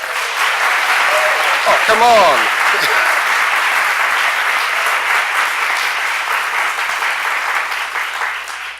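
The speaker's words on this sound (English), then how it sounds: "It would be great if you give a round of applause" Loud, sustained audience applause at a public talk on mental health and the megacity, a dense wash of many clapping hands lasting several seconds, with a brief spoken exclamation near the start before the clapping slowly eases.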